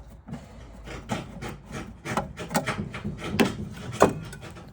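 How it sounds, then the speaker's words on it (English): Scraping the back wall of a Porsche engine bay, a hand tool rasping against metal in a steady series of short, close strokes of rising loudness, with no talk. "I'm scraping."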